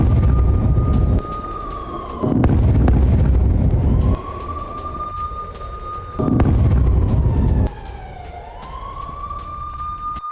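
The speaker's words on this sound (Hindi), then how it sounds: "तेल अवीव में सायरन की यह गूंज सुनी" A loud wailing air raid siren in Tel Aviv rises and falls in long sweeping cycles, with heavy rumbling bursts breaking in between.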